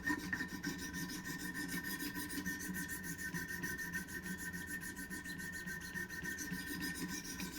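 A knife blade being sharpened on a Wicked Edge Pro-Pack III, working up through the grit progression. Steady, rhythmic rasping strokes continue evenly throughout at close range, with no talking.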